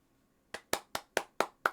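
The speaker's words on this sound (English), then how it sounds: "A round of applause for Jay and his inclusivity." Six sharp hand claps in a slow, steady rhythm during a livestream battle night event, faint and close, with no talk over them.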